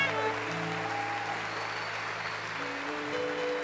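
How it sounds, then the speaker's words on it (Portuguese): Steady applause from a congregation during a worship song, a continuous soft wash of clapping mixed under sustained musical tones. "Vamos aplaudir esse Deus apaixonado"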